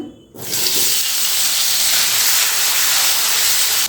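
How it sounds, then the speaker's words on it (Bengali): Potatoes coated in salt and turmeric fry in hot oil, a loud, steady broadband sizzle that bursts in after a short quiet start and holds evenly throughout. "এবারে ওই তেলের মধ্যেই ভেজে নিচ্ছি আমি কিছু আলু"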